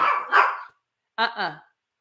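Dogs bark in two short bursts of a couple of sharp, close barks each, separated by a brief silence.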